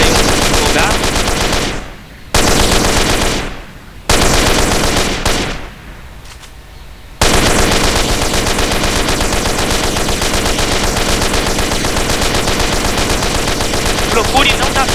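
Video game gunfire from the Joker mission mod in GTA San Andreas, loud sustained automatic bursts with brief gaps between volleys, dense and continuous, with no voices over it.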